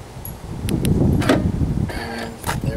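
A BMW trunk lid swung shut and latched, with a few sharp clicks and a solid thump near the middle amid rustling handling noise, followed by further mechanical clicks close to the microphone.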